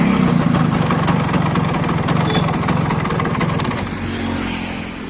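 Yamaha RX-Z two-stroke motorcycle fitted with a new CET silencer, idling loud and close with a steady rapid exhaust putter and slight rev rises, fading a little toward the end.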